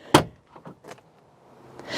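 The rear door of a 2020 RAM 1500 Rebel EcoDiesel pickup opens: a sharp latch click followed by a few soft knocks and rattles of the door swinging, ending in a rising rustle, with no talk.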